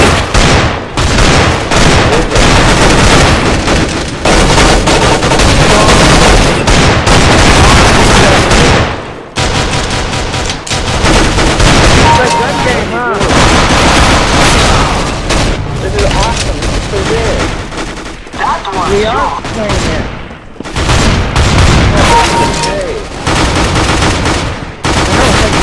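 Rapid bursts of gunfire from Counter-Strike: Global Offensive in Arms Race mode, with dense automatic fire and single shots that run almost without pause over about 25 seconds, loud and close, with brief gaps and a voice talking now and then.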